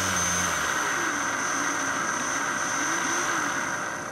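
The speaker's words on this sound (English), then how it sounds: "the motor bogs down and just comes to very nearly a stop" A small electric shunt motor, its coil shorted through a diode, hums with a steady high whine and a lower drone that slips and slows as the motor bogs down, holding close and constant before easing slightly at the end.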